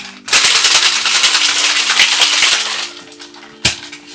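Mango ginger daiquiri shaken hard with ice in a cocktail shaker: a loud, dense rattle of ice clattering for about two and a half seconds, tapering off, then one sharp knock near the end.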